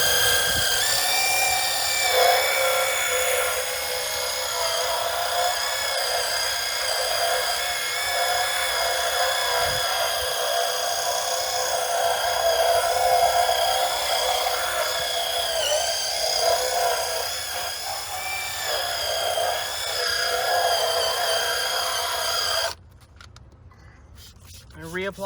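A drill-powered brush whirs steadily at high speed while scrubbing a carpet car floor mat, a loud continuous buzzing grind with slight pitch wavers, cutting off near the end.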